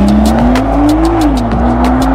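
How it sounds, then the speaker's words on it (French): A Nissan GT-R Nismo sports car drives at speed, its loud engine note holding high and then rising and dipping slightly as the revs shift, close and continuous. "Nissan GT-R Nismo"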